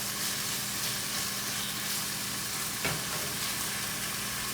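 Peppers sizzle in a hot pan while an omelet is being made, giving a steady, even frying hiss throughout, with a brief clatter partway through and no talking.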